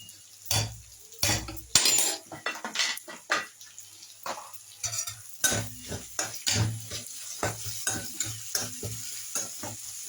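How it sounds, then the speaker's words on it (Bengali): Onion frying in Amul butter in a home kitchen, a soft sizzle under repeated scraping and clinking stirs of a spoon against the pan, close by. "আমার রান্নাঘরটায় অপূর্ব সুন্দর একটা সেন্ট ছেড়েছে আমুল বাটারের। এর সঙ্গে পেঁয়াজটা ভাজা হচ্ছে।"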